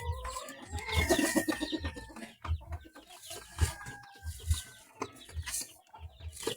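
A Black Australorp mother hen set on eggs clucks in a series of short, close, moderately loud calls, with rustling and other bird noises between them.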